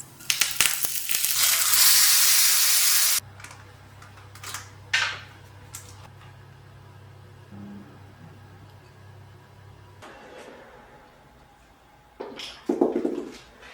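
Mustard seeds, urad dal and curry leaves hit a teaspoon of hot oil for a tadka, giving a loud burst of sizzling that cuts off abruptly, followed by quieter crackles and clatter, then a second short sizzle near the end.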